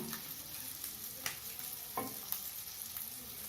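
Eggs coated in turmeric and pepper powder fry over low heat in a soft, even sizzle, punctuated by occasional light scrapes and taps of a spatula.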